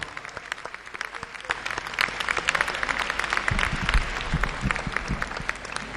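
Audience applause at the Écrans Noirs award ceremony closing night, a warm sustained wave of clapping from a sizeable crowd that swells midway, with a few voices mixed in.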